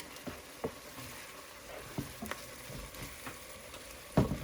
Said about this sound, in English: We're going to add in our garlic.